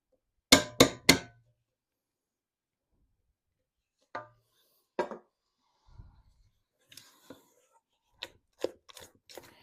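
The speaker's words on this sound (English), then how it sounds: "I'm just going to give it a final stir and scrape down with a spatula" A spatula stirs and scrapes pumpkin puree in a bowl: a quick triple scrape, a pause, then scattered soft rubs and knocks, all close and fairly quiet.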